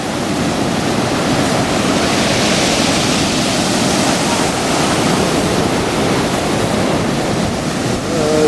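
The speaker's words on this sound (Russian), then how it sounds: "Вот это волны!" Rough, stormy sea on the coast of Crete in June roars steadily and loudly up close, a dense unbroken wash of crashing surf mixed with wind buffeting the microphone.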